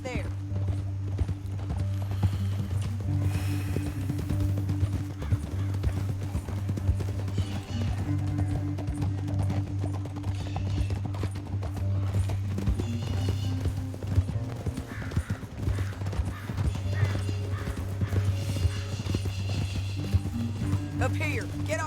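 Horses gallop in the Red Dead Redemption 2 video game, their hooves a continuous, fast clip-clop rhythm heard alongside a low steady musical drone, with an occasional whinny and bursts of voices talking over the ride.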